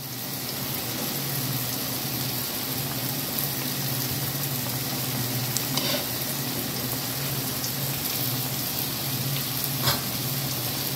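Masala vadai frying in hot oil at a roadside-style stall: a steady, dense sizzle and crackle runs throughout at moderate level, with a few faint pops and no talking.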